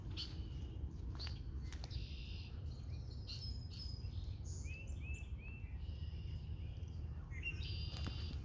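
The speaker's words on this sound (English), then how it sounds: "Got a starling" A starling chirps and whistles in short bursts of varied calls and clicks, fairly faint against a low steady background hum.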